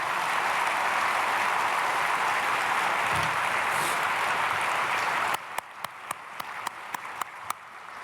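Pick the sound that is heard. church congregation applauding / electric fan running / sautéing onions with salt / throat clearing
church congregation applauding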